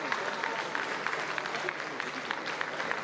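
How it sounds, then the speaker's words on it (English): An audience applauds at a live news event, a steady wash of clapping from a crowd heard at moderate distance throughout the short stretch. "Ladies and gentlemen, one more big round of applause."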